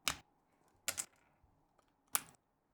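Large shine-through ABS keycaps are popped off a backlit mechanical keyboard: three sharp, close plastic snaps spaced about a second apart, with near silence between them.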